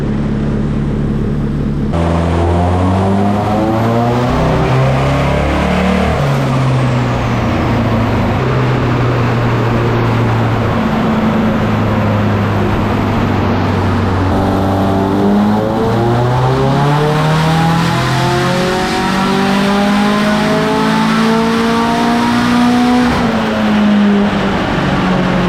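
Rebuilt Nissan SR20 engine running on a dyno, a loud continuous drone whose pitch climbs, dips and climbs again through rev sweeps, heard alone with no talk.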